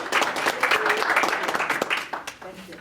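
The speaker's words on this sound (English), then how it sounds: "How about a round of applause for Dr." An audience claps for Dr. Barbara Henry after her talk on BGSU's adult and veteran education programs, a fairly loud, dense round of applause that holds steady and then thins out toward the end.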